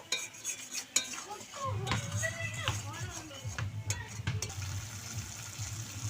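Turmeric, salt and spices being stir-fried for a vegetarian pointed gourd poppy-seed dish: a spoon scrapes and clinks against the pan over a low sizzle while a voice talks.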